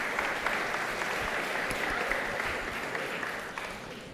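Audience applause at a Shabbat service for a girl celebrating her bat mitzvah, a steady wash of many hands clapping that gradually tapers off.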